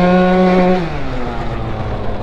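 A 70cc Yamaha Aerox mk2 scooter with a poorly tuned carburettor revs loudly up close, its high engine note holding steady, then dropping away into a rougher, lower idle.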